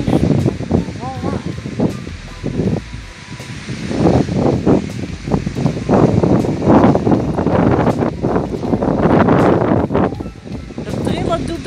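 Gusty wind buffets the microphone in rumbling bursts while a person talks throughout, the blasts growing stronger in the second half.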